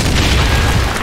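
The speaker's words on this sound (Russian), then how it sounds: "Граната." A grenade explodes in the multiplayer shooter Call of Duty 2 during the battle at Carentan, a single brief, loud, close low-frequency boom with no talking.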